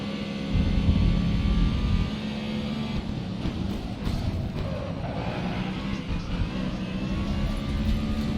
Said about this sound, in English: Hear the helicopter above.